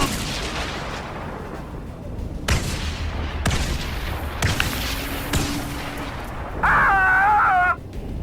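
A cannon-fire sound effect played during a Star Wars Legion tabletop tank battle: a series of booming blasts and gunfire bursts, followed by a short electronic beeping tone near the end.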